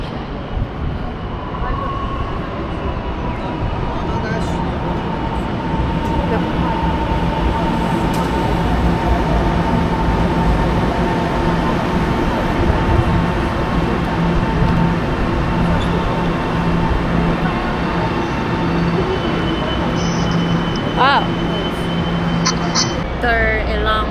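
A train pulls into a station with a steady, loud rumble of rolling wheels and machinery, and faint squeals and clanks rise near the end as it slows.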